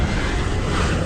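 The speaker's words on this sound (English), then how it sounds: "we have the GE90 engines today, so they should be packing quite a punch with the sounds" GE90 engines on a PMDG 777 in a flight simulator give a loud, steady broadband roar that fills the cabin, constant and close, with no one speaking.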